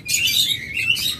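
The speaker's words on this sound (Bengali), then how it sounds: "আমাদের কাছে অসংখ্য লাভবার্ড রয়েছে এই পাশেও" Lovebirds at a breeding setup give off a dense run of high, rapid chirps and tweets, fairly close and steady, with no voices over them.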